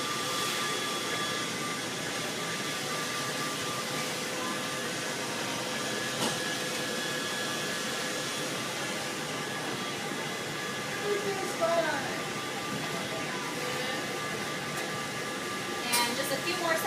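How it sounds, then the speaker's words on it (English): Electric stand mixer whipping macaron batter at high speed, setting 8, a steady broadband whir that holds unbroken for about seventeen seconds with faint clicks near the end. "right now I'm going to go ahead and turn on the mixer"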